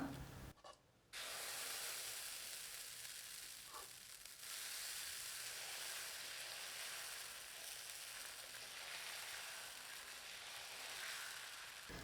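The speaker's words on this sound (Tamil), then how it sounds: "இப்போ கல் காஞ்சிருச்சுங்க தோசை ஊற்றிக்கலாம்" Fermented sorghum dosa batter sizzles steadily on a hot griddle, a loud continuous hiss and crackle that holds evenly after a brief dip near the start.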